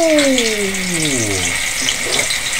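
Silver carp fillets fry in hot cooking oil with a loud, dense, continuous sizzle heard up close, while a descending whistling tone fades out over the first second.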